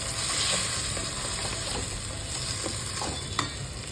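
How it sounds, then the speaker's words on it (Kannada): Chopped vegetables frying slowly in oil in a pan for avalakki upma, a flattened-rice dish: a steady close hiss of sizzling with faint scraping clicks of stirring and no voices. "ಹಾಗೆ ಫ್ರೈ ಮಾಡ್ಕೊಳ್ಳಿ ಅದನ್ನು ನಿಧಾನಕ್ಕೆ"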